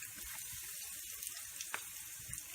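Potato tikki cutlets frying in a pan, with a soft, steady oil sizzle and a few faint taps and clicks, quiet and close, with no talk.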